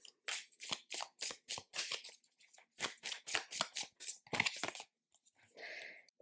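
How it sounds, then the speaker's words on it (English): An oracle card deck being shuffled, a rapid series of close, crisp riffling and slapping bursts, followed by a softer brushing sound as a single card is pulled, quiet and alone. "Let me just pull a card here."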